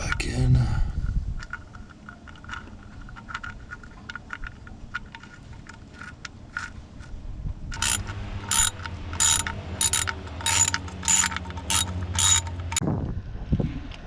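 A ratchet tightens the oil drain nut on a 2006 Volkswagen Jetta FSI, sounding as a quick series of sharp, close clicking strokes in the latter half after quieter handling noises.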